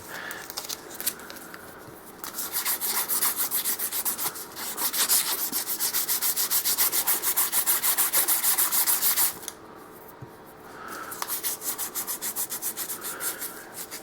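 Steady back-and-forth rasping of a brass guitar nut being sanded by hand on sandpaper through progressive grits, dense and continuous with a brief pause near the end, close and fairly loud with no voices.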